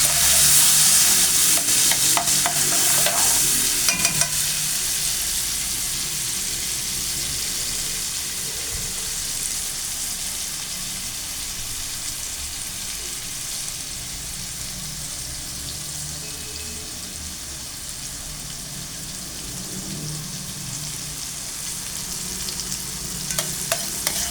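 Potatoes and meat fry in a pan before tomatoes go in, a loud, continuous sizzle and crackle with a few stirring scrapes near the start, close to the mic and alone with no talk.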